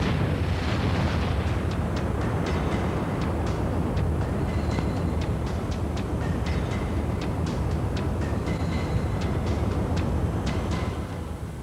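A massive asteroid impact explosion roars as a continuous, dense low rumble with crackling debris, loud and unbroken throughout before easing slightly at the very end.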